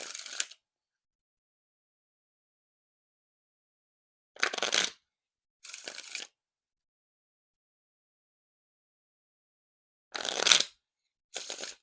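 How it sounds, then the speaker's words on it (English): Black1st v6 playing cards being riffle shuffled in four separate bursts, each a brief crisp flutter of cards, with silence between them; no voices. "And now time for the riffle shuffle or bridge shuffle."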